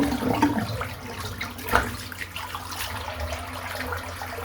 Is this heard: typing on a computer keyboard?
no